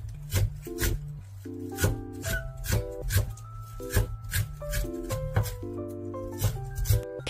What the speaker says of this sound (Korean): 양파 4분의 1은 깍둑 썰고 대파는 송송 썰어주세요.